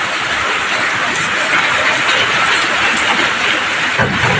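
Heavy rain pouring down steadily at a home, a loud, unbroken hiss that fills the whole stretch with no voices.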